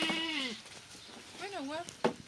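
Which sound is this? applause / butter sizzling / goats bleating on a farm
goats bleating on a farm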